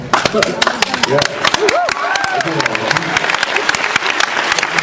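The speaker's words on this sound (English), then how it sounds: "I was fishing for applause." Audience applause at a Supernatural panel at Comic Con 2008, scattered crowd clapping under continuous talk and laughter from people on stage.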